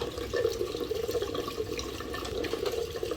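Gasoline trickling slowly out of a spill-free plastic gas can, a steady, close liquid gurgle and splash running continuously without speech.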